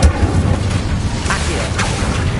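The Incendio fire spell is cast in Hogwarts Legacy, a loud booming whoosh with low rumble and two brief bright flares of roaring flame, alone without talk.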